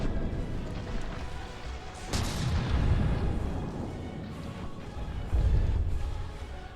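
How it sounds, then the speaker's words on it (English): Torpedoes strike a warship in a naval battle video game, producing heavy booming impacts, a sharp blast around the middle followed by rolling rumbles and a second deep hit near the end. "And torpedoes coming in."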